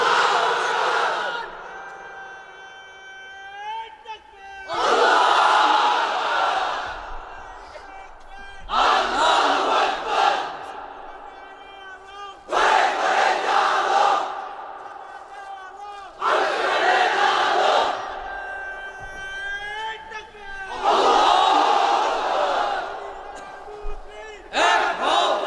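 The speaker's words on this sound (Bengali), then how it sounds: "এবার অবিবাহিতরা দাও লিল্লাহি তাকবীর।" Large crowd of unmarried men at an Islamic waz gathering in Cumilla roaring a takbir chant response in several loud, sustained bursts separated by brief pauses.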